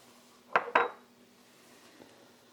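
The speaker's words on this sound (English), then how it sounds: "Stir it up, get all those flavors mixed in there together." A spoon knocks twice against a pot of red beans as seasoning is stirred in, two quick close clanks followed by quiet kitchen ambience.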